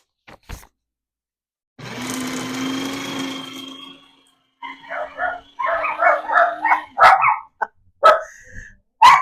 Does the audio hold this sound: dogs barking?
yes